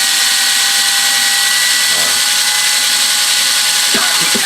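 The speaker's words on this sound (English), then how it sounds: "I'm just taking the drill. I've stuck that burnisher down in it" A power drill spins a dampened burnisher against the edge of a leather Copenhagen belt case. Its loud, steady, high whine runs continuously, with slight changes in pitch as the edge is worked.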